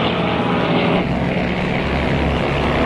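Fighter planes fly in formation with a continuous, loud engine roar that holds steady from start to finish, with no speech.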